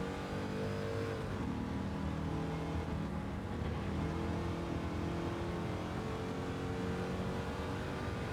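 A 1963 Corvette C2 Le Mans race car in Gran Turismo 7 on a wet track, its engine droning loud and continuous as the throttle is bumped, the revs rising and falling without a break.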